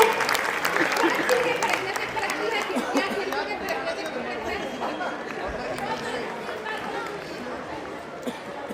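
Audience at a school annual function applauding loudly, sustained crowd clapping mixed with chatter and voices, gradually tapering over several seconds.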